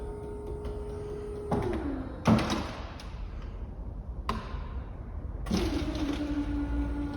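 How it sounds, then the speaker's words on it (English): A VW Caddy wheelchair-accessible vehicle's rear access ramp lowers, giving a mechanical whir with sharp clunks and thuds as it moves and settles, heard close and moderately loud with no talking. "and then the ramp will come down."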